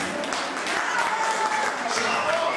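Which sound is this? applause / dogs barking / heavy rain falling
applause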